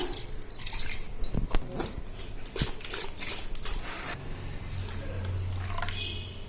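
Water poured into a cooking pot while making pepper-cumin rasam, splashing and trickling in uneven bursts with a few sharp clinks, close and moderately loud.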